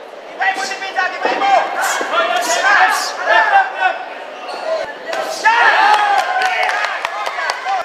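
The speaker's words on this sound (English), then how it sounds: "Both the crowd roaring at every attack" A boxing crowd roars and cheers in surges as fighters trade attacks, a loud arena wash of voices rising and falling, with a commentator talking over it.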